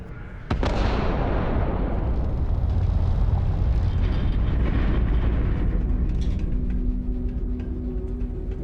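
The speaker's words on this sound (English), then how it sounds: "Particle detonation concluded." A massive particle detonation in the game Starfield hits with a sudden loud boom, then rolls into a long, heavy rumble that fades slowly over several seconds.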